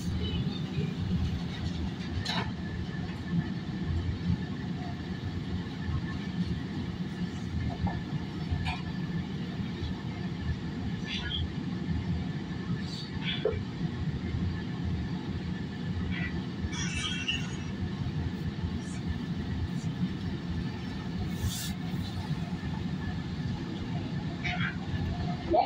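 A SEPTA Market-Frankford Line subway train rumbles steadily between stations, with continuous wheel and track noise, occasional squeals and clanks, and an onboard announcement voice heard partway through.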